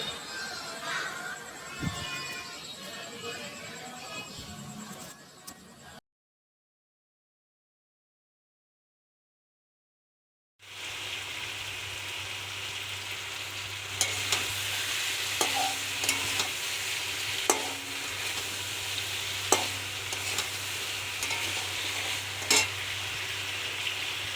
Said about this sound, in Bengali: আর মাংসটা নাড়া দেবো আমরা ভালোভাবে।